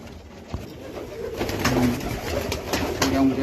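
Pigeons coo in a crowded Bangladeshi pigeon farm holding Gola, black and white birds, with many low, throaty calls overlapping in a close, continuous murmur and no talking.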